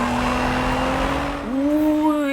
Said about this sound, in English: It's fun to drift a GTR.